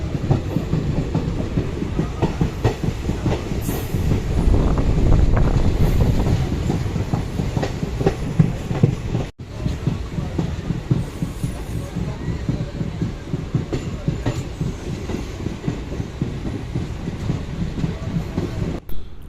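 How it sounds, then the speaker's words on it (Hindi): A Qadian DMU diesel train rolling out of Amritsar station, with steady engine rumble and rhythmic clickety-clack of wheels on rail joints, heard from inside the carriage for a sustained stretch. "अब ये ट्रेन यहाँ से चल पड़ी है।"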